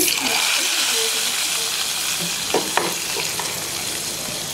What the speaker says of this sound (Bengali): এখন আমি বাগারটা দিচ্ছি